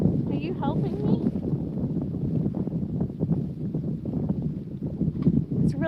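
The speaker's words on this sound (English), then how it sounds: "It's really windy up here." Strong wind buffets a microphone outdoors while grapevine cuttings are collected, a dense, continuous low roar and rumble with gusty swells that last the whole stretch and bury any other detail.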